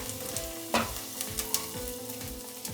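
Sliced okra fries in a hot pan, a continuous crackling sizzle broken by the clatter of a spoon stirring now and then, close up and without voices.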